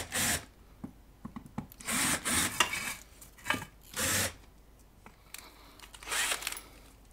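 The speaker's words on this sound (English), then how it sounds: "And time to deburr on this side as well." Deburring drilled holes in an aluminium amplifier chassis: a series of short scraping, rasping strokes in separate bursts with brief pauses, close and moderately loud.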